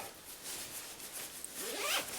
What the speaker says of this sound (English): Now I can go around and I can zip this up